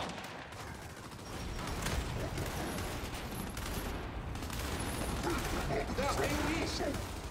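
Sustained gunfire and fusillade from the video game Gears 5, a dense, continuous barrage of shots and explosions, with game voices calling out over the fighting.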